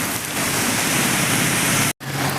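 Heavy morning rain pours steadily onto the NH 66 road at Randathani, Malappuram, a dense, loud continuous wash of falling water with one brief dropout near the end.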